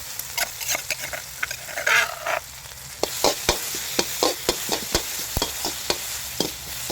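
Chopped garlic and pork stir-fry in a pan for Thai basil pork, the spatula scraping and clacking in quick irregular strokes over a close, crackling sizzle that grows busier in the second half.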